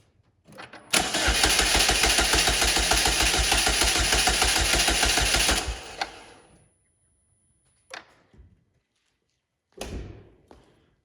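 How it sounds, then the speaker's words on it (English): A Chevy Malibu 2.4 engine with no fuel cranks steadily for about five seconds with a fast rhythmic chugging but never catches, followed by a few dull thumps and clicks. "turn the engine over to let it prime the oil pump and lubricate those bearings"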